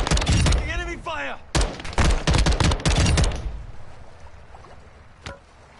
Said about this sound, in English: Enemy fire here. Taking enemy fire!